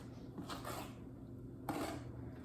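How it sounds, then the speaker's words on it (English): Gluten-free, dairy-free vanilla cake batter being mixed in a bowl, a few close clinks and scrapes of utensil against dish in a quiet kitchen, with no talking. "now we need to mix all of these ingredients together"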